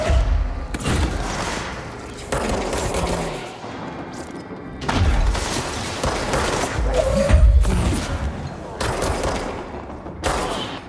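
Bursts of rapid gunfire and heavy thuds in a loud, chaotic battle in the video game Control, with short pauses between volleys.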